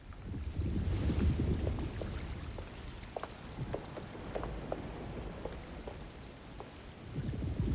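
Stormy weather in the Alone in the Dark video game: a steady wash of rain with low rumbling thunder rolling underneath, plus scattered sharp drip-like ticks, with no talking.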